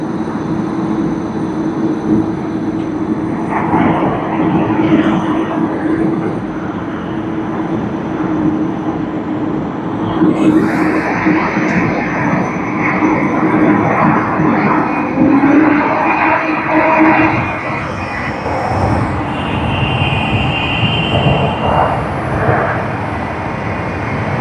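Engines of a Qantas airliner, flight QF60, at Tokyo Haneda Airport, a continuous mid-distance drone with a low steady hum, swelling slightly midway and holding to the end.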